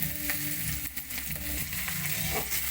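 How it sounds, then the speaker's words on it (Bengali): Chopped ginger and onion frying in a pan, a steady dense sizzle running unbroken throughout, close and fairly loud, with faint scraping now and then. "আদা কুচি দিয়ে একটু ভাজা ভাজা করে নেব"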